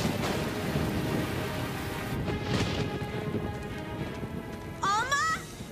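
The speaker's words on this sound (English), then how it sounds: "But it's raining outside." Rain falls steadily outside in an animated show scene, a dense continuous patter with a low rumble, and a voice cries out briefly near the end.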